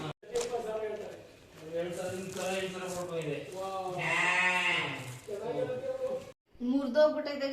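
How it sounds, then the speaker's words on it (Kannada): A newly brought home sheep bleats repeatedly at close range, several wavering cries with brief gaps between them, clear and fairly loud. "ಕರುನ ಮಾರ್ಬಿಟ್ಟು ಕುರಿನ ತಂದವರು."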